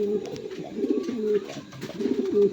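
Pigeons for sale coo repeatedly in low, throaty rolling phrases, several overlapping calls close by with a steady rhythm and no talk.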